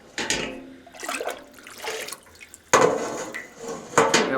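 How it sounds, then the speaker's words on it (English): Warm turkey broth is poured into jars in bursts of splashing liquid with clinks of glass, close by and moderately quiet, with a fuller, louder pour toward the end. "Got warm broth going in here."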